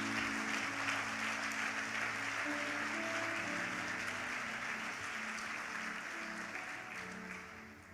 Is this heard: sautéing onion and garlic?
no